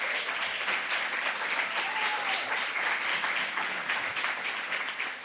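An audience claps steadily for a speaker being welcomed up at a race equity in higher education convening, dense and sustained applause filling the room throughout.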